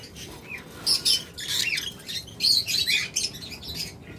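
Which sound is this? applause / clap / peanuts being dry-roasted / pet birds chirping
pet birds chirping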